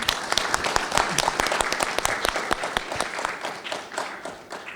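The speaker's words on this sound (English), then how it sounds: "give a big round of applause to the 4 panelists" An audience at a conference side event on Africa's sustainable blue economy applauds the four panelists, dense steady clapping from a mid-sized crowd lasting several seconds and slowly tapering off.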